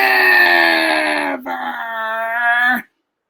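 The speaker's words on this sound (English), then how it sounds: "You hear the dogs bark next door." A dog next door howls in one long, loud, drawn-out wail that holds steady, dips briefly, then rises again before cutting off abruptly, with no other sounds around it.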